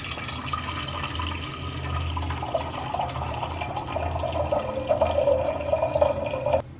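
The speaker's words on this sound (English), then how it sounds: "First we'll add water." Water pours steadily into a cooking pot for chicken, the splashing tone rising as it fills, then stops abruptly.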